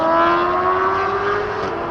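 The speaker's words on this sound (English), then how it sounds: "lots of really noisy cars here on the street today" A steady drone of street traffic with a strong sustained tonal whine, likely a nearby engine or motor, holding loud and even for the full two seconds with no voices.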